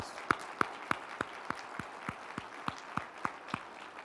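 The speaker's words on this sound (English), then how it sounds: "Give them a round of applause." Applause for scholars at a chancellor's community breakfast, heard here as a faint, sparse run of evenly spaced single claps, roughly three per second, with a low murmur of room noise underneath.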